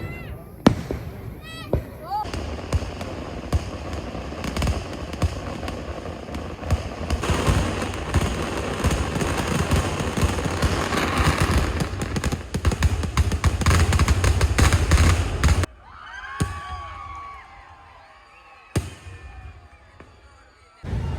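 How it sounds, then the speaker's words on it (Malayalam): Fireworks burst at the Andalur Thira festival in Kannur, a dense, loud barrage of rapid crackling bangs that runs continuously for about fifteen seconds, then gives way to a quieter stretch with scattered pops and people talking nearby. "എങ്ങനെയുണ്ട് വെടിക്കെട്ട്?"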